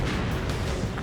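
An armored personnel carrier explodes in Ace Combat 7: Skies Unknown, a short, heavy, muffled boom with a rumbling tail lasting about a second.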